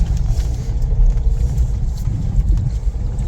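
A Nissan Pathfinder R50 4x4 in 2-wheel drive on a desert off-road trail, its engine a steady, loud low rumble heard from inside with faint rattles and no talk.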